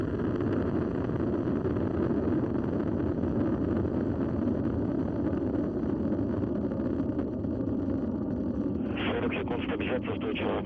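A Soyuz rocket lifting off with a crew bound for the space station, its four strap-on boosters and core engine making about 930,000 pounds of thrust in a continuous, heavy low roar, with a voice speaking over it.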